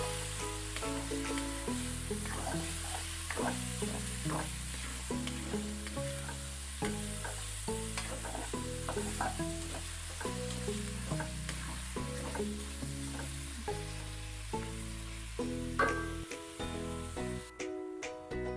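Pork sautéing until brown for menudo, with a long steady frying hiss and repeated rhythmic stirring scrapes close up, ending with a few sharper clatters, and no voices.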